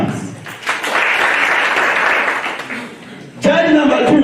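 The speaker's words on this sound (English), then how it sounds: "Clap hands." Audience at a school debate championship in Ibanda claps after a judge's vote is announced, a burst of dense applause fading out before a voice speaks at the end.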